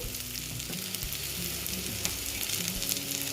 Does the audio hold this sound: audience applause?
no